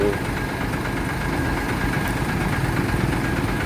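The diesel engine of a SANY SY200C excavator idles at a steady, close, loud chug with a faint knocking pulse. The excavator is stacking large rocks along a reservoir bank.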